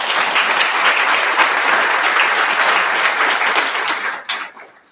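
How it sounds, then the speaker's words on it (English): Loud, dense audience applause at a school board candidate forum in Edmond, steady for about four seconds before tapering off into a few last claps. "Give them both a round of applause for being here."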